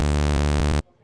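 An unfiltered saw-wave bass synth from Ableton Operator drones loud and buzzy for just under a second, harmonically rich with slight pulsing, then cuts off abruptly into near silence.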